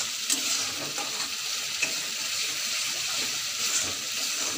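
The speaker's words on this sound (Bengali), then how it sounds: "এদিকে মশলা কষা চলছে" Fish masala sizzles and fries steadily in a pan, a constant close hiss with faint stirring scrapes and no voices.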